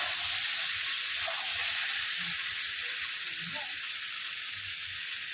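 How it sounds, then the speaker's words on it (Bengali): Eggplant pieces fry in hot oil in a pan, a steady close sizzle with soft crackles, continuous and fairly loud throughout with no talking. "বেগুন কেটে রেখেছিলাম, বেগুনটাও আমি একবারেই ভেজে নেবো"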